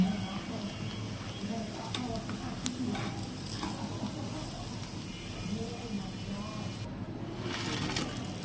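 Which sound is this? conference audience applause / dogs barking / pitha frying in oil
pitha frying in oil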